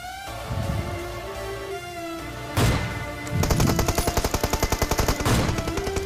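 Gunfire in the mobile battle royale game BGMI: a couple of single shots, then a rapid burst of automatic fire in quick even rhythm, loud over background game music.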